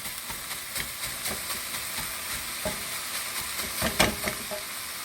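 Ground beef simmers and sizzles in a pot of Kansas City steak soup, a continuous close crackling hiss with scattered pops and stirring scrapes, louder bursts near the end.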